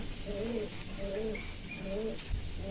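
A pigeon in a loft coos close by in a repeated rhythmic pattern of soft, low burbling calls, about four phrases, over faint background noise.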